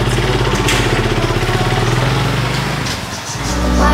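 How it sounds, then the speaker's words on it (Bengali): A motorcycle engine runs loud and close, a steady throbbing idle that dips briefly before the revs climb again. "এই বাইকটা তোমাদেরকে আমি একটু চালিয়ে দেখাচ্ছি"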